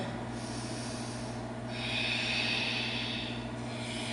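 A deep breath is drawn in during a power yoga session, rising as one soft, airy inhale in the middle of a steady hum, close and unhurried with no talk.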